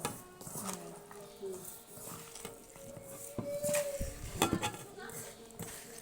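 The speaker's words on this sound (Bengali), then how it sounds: "এখন এটাকে ভালোভাবে মাখিয়ে নিব" Small fish being mixed by hand with soybean oil and spices in a bowl make wet squelching and stirring sounds with a few clinks of the dish, while a voice speaks intermittently.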